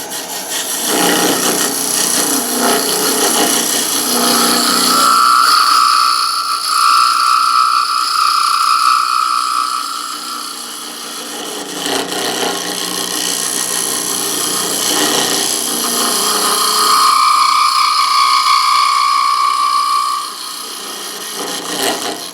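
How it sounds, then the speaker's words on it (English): Negative rake scraper cleaning up a wooden shot glass spinning on a lathe: a steady, close scraping and rasping that runs throughout, with a brief lighter stretch near the middle. "I'll drag out the old negative rake scraper. And clean it up."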